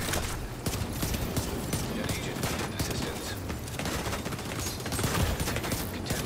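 Rapid, dense pistol gunfire from a video game manhunt rattles on continuously at close range, with bursts overlapping into a steady barrage throughout.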